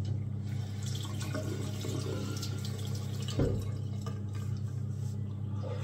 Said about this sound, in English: No plug for the sink, so I got to keep rinsing under the tap